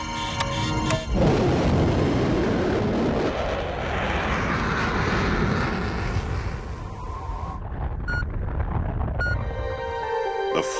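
A spacecraft launch in a TV drama produces a heavy, sustained roaring rumble that builds and fills the scene, then gives way to quieter cut-in sounds and abrupt edits.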